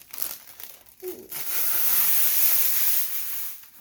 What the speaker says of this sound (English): I'm just peeling it off here.